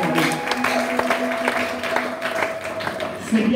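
A church congregation applauds the Lord during a Sunday service, steady dense clapping filling the room with a voice speaking over it.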